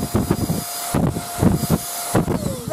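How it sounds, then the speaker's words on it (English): A handheld air blower used during a Yamaha PSR-S970 keyboard module repair gives several short, strong, close bursts of rushing air with brief pauses between them. "This is a blower."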